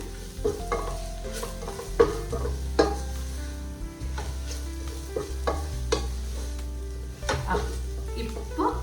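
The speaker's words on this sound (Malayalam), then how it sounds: "അപ്പോൾ അതെല്ലാം കൂടിയിട്ട് ഞാനൊന്ന് വഴറ്റുവാണ്" Masala for prawn biryani sautéing in a pan, a low, steady sizzle under repeated scraping and clinking stirs of a spoon against the metal, heard close up.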